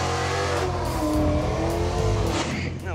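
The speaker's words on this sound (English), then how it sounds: "I brought with me a brand new Mustang GT" A brand new Ford Mustang GT, fresh off the showroom floor, revs its engine loudly nearby in a steady, throaty drone that swells and dips over three seconds, heard alone.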